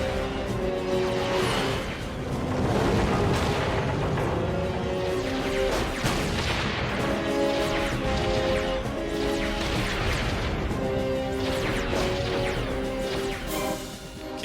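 Spaceship weapons fire in a science-fiction space battle: dense, loud, continuous blasts and crashing impacts layered over a dramatic orchestral score, with no pauses for the whole stretch.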